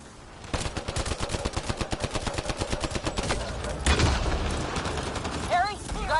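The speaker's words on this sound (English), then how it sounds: "Just keep firing, we can do this!" Rapid automatic gunfire in the sci-fi video game Mass Effect Andromeda, a steady rhythmic burst of close, loud shots lasting several seconds, followed by a heavier blast and a short voice line.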